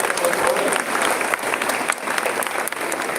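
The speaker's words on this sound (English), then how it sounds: "round of applause for the" Steady applause from a room of people, dense clapping that holds at an even level throughout with a faint murmur of voices underneath.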